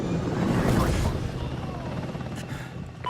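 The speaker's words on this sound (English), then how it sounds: "Friendly chopper inbound" A Super Hind attack helicopter arrives in a Call of Duty Ghosts match, its rotor thrum swelling over gunfire and in-game explosions, with a game voice briefly audible.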